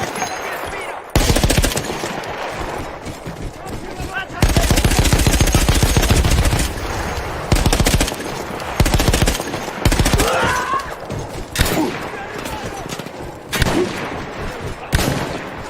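Mounted machine gun firing in Battlefield 1, loud close bursts of rapid automatic fire separated by short pauses, repeating over and over.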